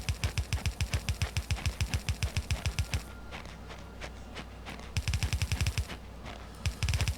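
Gun turrets fire in the factory-building game Factorio, rattling off rapid automatic bursts. The strings of loud, close shots stop briefly and then start again.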